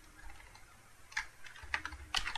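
Keys clatter on a computer keyboard in a few quick bursts of typing, close and moderately quiet, with no voices over it.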